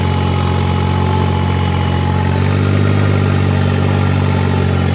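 A 3630 tractor engine runs steady and loud in low third gear, a continuous heavy diesel drone with no gaps or voices.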